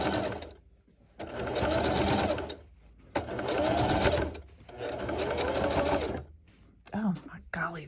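A sewing machine runs in three long bursts of stitching, closing a seam on a fabric dryer mat where the stitching began, with short pauses between runs and a voice near the end.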